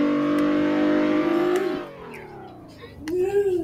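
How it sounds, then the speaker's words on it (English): In the Roblox video game, set in Kingston, Jamaica, a car engine hums and rises in pitch, drops away, then revs again. A voice may be speaking under it. "Why do I always hear car engines?"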